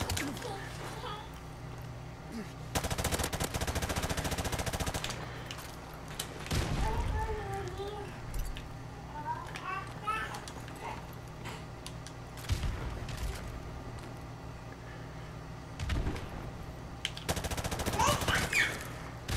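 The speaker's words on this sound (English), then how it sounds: "With the submachine gun." Submachine gun fire in the video game Hunt: Showdown, with several loud automatic bursts at intervals amid quieter game ambience and mechanical clicks, while players talk over it.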